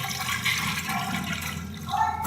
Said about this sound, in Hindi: इसके अंदर हम पानी ऐड कर देंगे